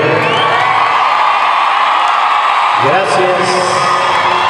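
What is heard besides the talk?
audience applause and cheering at concert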